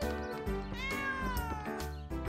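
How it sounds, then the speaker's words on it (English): A cat meows loudly and close by, a drawn-out, rising and falling call with rich tones lasting about two seconds, heard alone with nobody speaking. "The cat is also interested."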